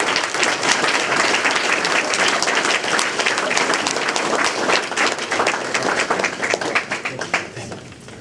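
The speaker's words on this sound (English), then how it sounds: "how about another round of applause for the at-large candidates?" An audience at a city council at-large candidates debate held in a Sons of Italy hall applauds loudly and steadily, the clapping thinning slightly toward the end with faint voices underneath.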